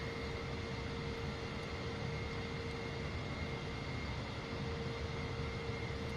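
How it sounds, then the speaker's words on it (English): Boeing 747 taking off from Manchester in a flight simulator, a steady, even engine roar with constant tonal hum, fairly faint and alone. "Takeoff from Manchester."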